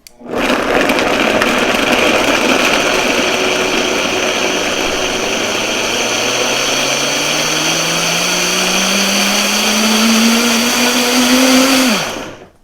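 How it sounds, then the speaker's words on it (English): An electric kitchen blender grinds almonds to a coarse texture for almond halwa, a loud steady whine running about twelve seconds with the motor pitch slowly rising before it cuts off abruptly, close by with no voices. "You just want to blend it until you have little coarse almonds in it."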